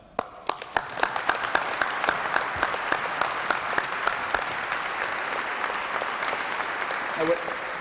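An audience at a Thanksgiving charity breakfast award presentation claps, starting with a few separate sharp claps that quickly swell into sustained, fairly close applause, then gradually thin out near the end.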